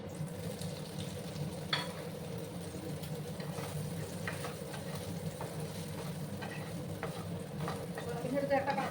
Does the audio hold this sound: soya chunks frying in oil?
yes